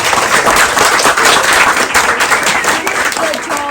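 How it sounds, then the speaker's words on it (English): Guests at a Writers Room book launch give a loud, sustained round of applause for young people from Creative Walden, dense clapping filling the room with voices mixed in. "if I could just ask everyone to join me in giving a round of applause to all the young people at Creative Walden"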